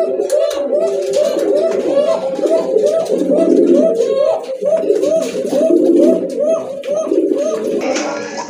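A pair of sky-blue Rajgolla master pigeons cooing in a continuous throaty rolling chorus, close and loud, with voices faintly mixed in.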